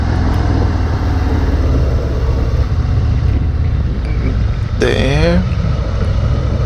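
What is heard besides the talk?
Harley-Davidson Fat Boy 114 motorcycle engine during test ride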